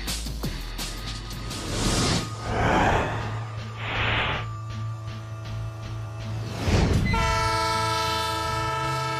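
A refurbished Spirit of Oregon locomotive passes loudly close by, with a steady rumble of wheels and cars and a sustained horn blast that sounds near the end.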